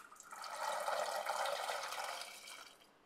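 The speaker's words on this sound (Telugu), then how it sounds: "వాటర్ అయితే వేసుకుంటున్నాను." Water is poured from a vessel over sweet corn kernels in a kitchen, a soft steady splashing and trickling pour lasting about three seconds, quiet and close.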